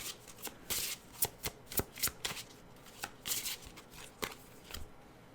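Tarot cards being shuffled by hand in a quiet room: a string of crisp riffles and slaps, fairly faint and close, with short irregular bursts and gaps and no talking.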